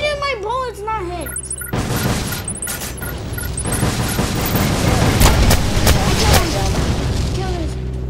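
Rapid gunfire and booming blasts fill a Roblox war tycoon battle, loud and dense over a continuous rumble, with game sound effects and chiming tones near the start.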